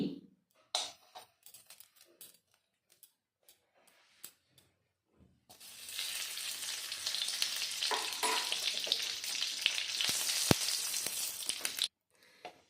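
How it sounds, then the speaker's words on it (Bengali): A spoonful of ghee melting in a heated karai, with sparse soft clicks and taps at first, then a steady close hiss and sizzle for the second half before stopping abruptly. "ঘিটা আমি গলিয়ে নিয়েছি"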